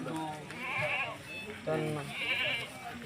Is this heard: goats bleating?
yes